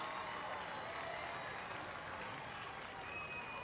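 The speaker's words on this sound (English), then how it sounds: "let's give a big round of applause for our entire court and nominees." Crowd applause for the homecoming court at a high school football game, a steady distant wash of clapping from the stands, faint and even throughout with no voices standing out.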